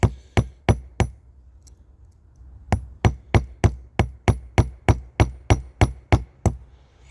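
A hammer peens a rivet on a chainsaw chain during a hand repair, striking in sharp, crisp metallic taps: four quick blows, a pause, then a steady run of about fifteen evenly spaced hits.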